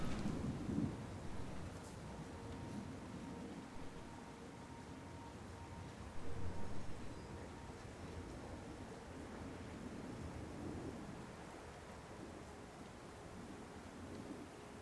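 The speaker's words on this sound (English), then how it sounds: "I love that thunderstorm ASMR." A rainy thunderstorm in the video game Syberia: The World Before, heard as a soft, steady wash of rain with a distant rumble that swells briefly midway, no talking.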